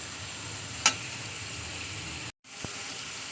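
Ginger garlic paste is added to cooked-down spices and tomato in a frying pan, giving off a steady, faint sizzling hiss broken by a single sharp tick and a brief dropout.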